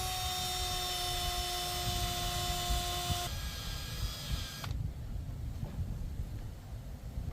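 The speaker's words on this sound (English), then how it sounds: "use the eraser wheel and buff this off real quick" Eraser wheel on a power tool buffing badge adhesive off a truck body, a steady whining grind that holds, then shifts and drops into a rougher, quieter hum near the end.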